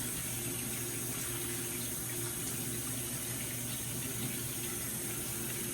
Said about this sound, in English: you rinse them off carefully in the water